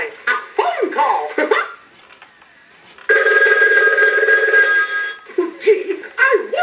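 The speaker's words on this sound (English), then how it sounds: "Oh boy, a phone call." A battery-powered animated Mickey Mouse novelty telephone rings with a steady electronic bell tone lasting about two seconds, framed before and after by its cartoon character voice lines.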